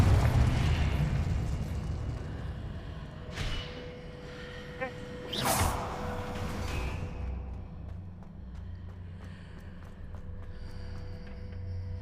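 A Confringo fire spell bursts in Hogwarts Legacy, with two loud, sharp blasts a couple of seconds apart over low, rumbling game ambience that fades to a quieter hum.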